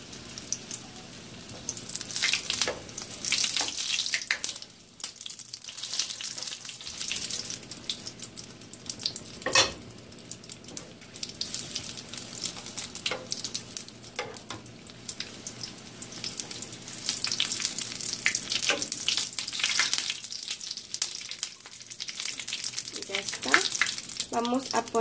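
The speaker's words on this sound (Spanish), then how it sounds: "ponerle mantequita, que se nos fría bien" Battered cauliflower frying in butter in a pan, a steady close crackling sizzle with occasional louder pops and utensil taps throughout, under light talk.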